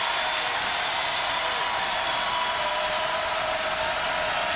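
Crowd at the 2009 WNIT women's basketball championship game between USF and Kansas, heard as continuous, even cheering and applause from a distant arena, filling the whole moment with a steady wash of noise.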